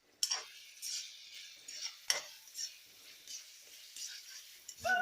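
Ginger garlic paste, onion and green chillies frying in a pan, heard as a quiet, gentle sizzle punctuated by a few sharp spoon-against-pan scrapes and clicks.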